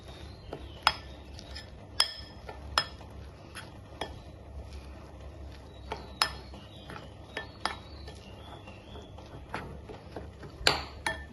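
Ragi flour being stirred into boiling water in a pot, with a spoon repeatedly clinking and scraping against the vessel in sharp, irregular taps over a soft, steady background.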